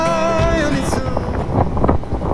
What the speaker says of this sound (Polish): Tak wygląda 29 węzłów, jak się wchodzi do portu. Wiatr jest spadowy.